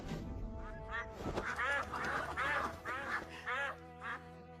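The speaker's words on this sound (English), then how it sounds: "those look like the 5 spirit ducks raised on Pure Blessing Peak" Several spirit ducks raised on Pure Blessing Peak quack loudly and repeatedly in close, overlapping bursts, a busy flock calling over a steady low hum.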